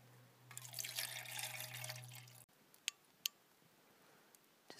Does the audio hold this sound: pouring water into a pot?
yes